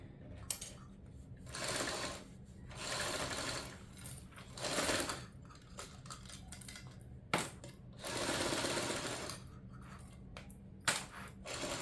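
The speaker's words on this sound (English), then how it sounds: "now we're just basting this on" A sewing machine bastes quilt layers together in bursts of fast mechanical stitching, several runs of a few seconds each separated by pauses with small clicks and handling noises.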